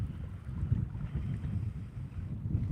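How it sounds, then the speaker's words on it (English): Moderate wind rumbles steadily against the microphone on the waterfront at Superior, Wisconsin, a low fluttering roar with no speech, fairly constant throughout. "it's a little windy, so hopefully you can hear what I'm saying."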